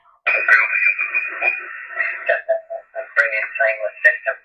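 A narrowband, slightly garbled voice comes through a Yaesu FT-101E shortwave receiver on upper sideband, speech-like bursts with brief gaps, as a single-sideband signal sounds when tuned in.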